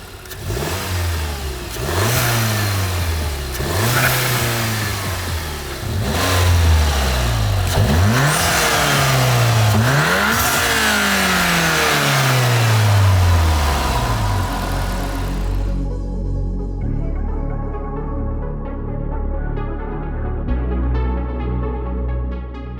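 A Volkswagen Golf R MK7 with a RacingLine R600 intake and Milltek exhaust revs hard in repeated rising sweeps, each dropping back, before settling into a steady idle.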